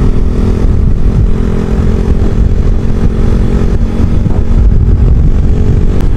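A Yamaha Jupiter Z1 motorcycle fitted with an aftermarket Tsukigi exhaust runs close by, its engine a loud, steady, rumbling drone that continues throughout with no talking.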